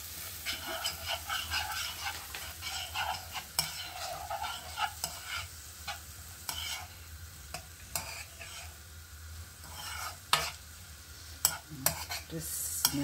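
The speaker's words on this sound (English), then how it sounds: "I'm just going to give it a stir." Jamaican-style jerk pork stirred in a pan as it cooks, with repeated clicking and scraping of the utensil over a continuous low sizzle, fairly quiet and close; a dog may bark faintly in the background.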